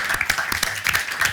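A short burst of audience applause at a live French storytelling show, with individual claps standing out in an uneven, sparse patter.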